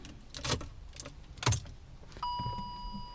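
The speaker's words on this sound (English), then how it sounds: "You just turn the key" A car key turns in the ignition of an electric Fiat, with keys jangling and clicking close by, followed by a steady electronic chime tone as the car switches on. Nobody speaks.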